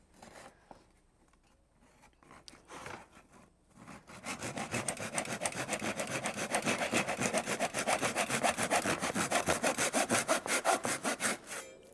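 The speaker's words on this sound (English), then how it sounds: "But I find this little Japanese model saw works just fine." A small Japanese hand saw cuts through oak: a few tentative strokes first, then quick, steady back-and-forth rasping close up, growing louder and rhythmic for several seconds.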